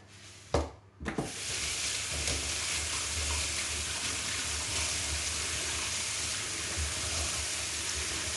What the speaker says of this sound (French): Je vais laver mes choux de Bruxelles.